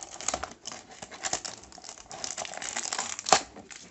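Crinkly packaging rustles and crackles close by as a small parcel box that spent three days in the cold is opened, with an irregular run of crumpling and one sharper rip near the end.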